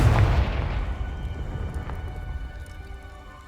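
A Confringo blasting spell cast in the game Hogwarts Legacy: one heavy, booming blast at the start, followed by a crackling rumble that slowly fades away.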